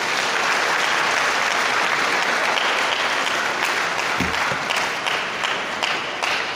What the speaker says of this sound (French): nous allons l'accompagner par nos acclamations